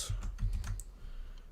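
Typing on a computer keyboard during an online sports-show chat, a quick run of soft key clicks close by, then a pause and a few more taps, fairly quiet with no speech over it.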